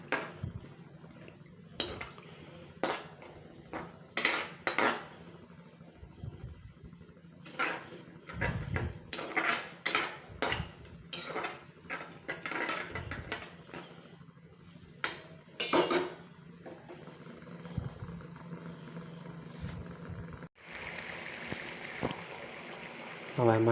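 A metal pot and utensils clink and scrape in quick irregular bursts while lady's finger (okra) is stirred into boiling water for a masala dish, fairly close with quiet gaps between the knocks.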